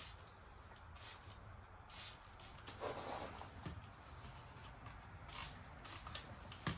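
Graphene ceramic spray coating is misted onto a Ford F150 body panel near the door handle in several short, quiet hissing bursts under a faint steady background.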